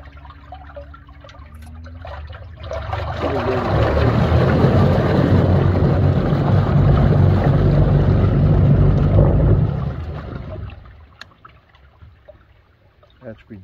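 A 24-volt trolling motor with a PVC extension handle churns water, rising into a steady, close watery rumble for several seconds before winding back down, with faint background sounds around it.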